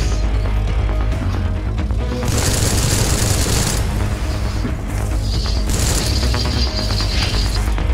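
Shotgun fire in the video game D.R.O.N.E., a loud, dense barrage of blasts over clanking, ratcheting mechanical noise, with bright bursts recurring in two distinct waves across the stretch.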